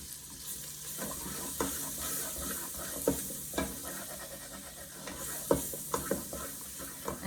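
Half a stick of butter melts in hot bacon fat in a soup pot while being stirred, giving a steady gentle sizzle broken by periodic scraping strokes of a spoon, close up and without voices.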